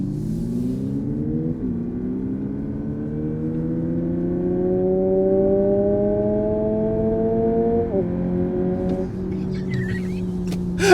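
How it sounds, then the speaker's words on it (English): Synthetic augmented exhaust note piped through the cabin speakers of a 2023 Lexus 250h SUV: a loud, steady engine drone rising in pitch through several gear steps, with brief shifts and a click near the end, no talking. "What they did was they put in an augmented sound for the exhaust note."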